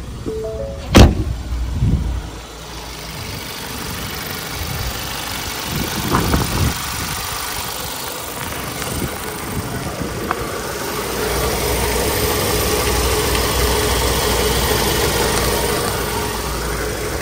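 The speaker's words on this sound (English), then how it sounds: "let's go listen to the engine" A 2021 Ford Transit Connect XL van engine idles steadily at close range, a low continuous rumble after a brief clunk and shuffle at the start.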